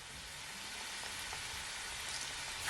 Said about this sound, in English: So now I'm gonna add my shrimp. Just gonna allow them to fry,